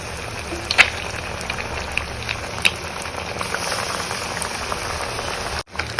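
Egg bajji frying in hot oil, a steady crackling sizzle with scattered sharper pops throughout, no talking.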